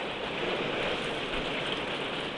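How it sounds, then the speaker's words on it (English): Heavy rain pours outdoors as a dense, even hiss with no breaks, loud and enveloping with a faint low rumble underneath. "whenever it rains like this"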